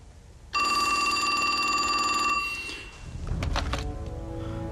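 A telephone rings with one loud, sustained electronic trill that cuts off, followed by a thunk and clatter as the receiver is picked up.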